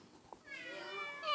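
A child imitates a cat's meow, producing a single drawn-out rising mew that grows louder toward the end, heard close and alone.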